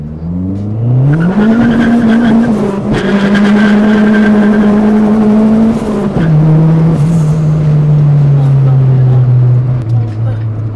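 A Toyota Corolla with a straight-pipe exhaust revs loud and close. The engine note climbs sharply, then holds a steady drone before dropping slightly and droning on, with voices talking underneath.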